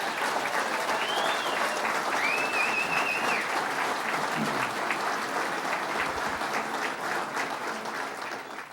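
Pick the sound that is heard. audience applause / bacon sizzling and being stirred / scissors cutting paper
audience applause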